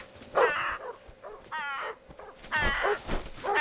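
A crow caws in a scene from the film Maleficent: three harsh, raspy calls separated by short pauses, clear and fairly close, with no talking over them.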